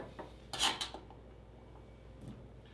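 Cheddar cheese cubes drop into a bowl with one short, quiet clatter, followed by near silence and a faint tap a moment later.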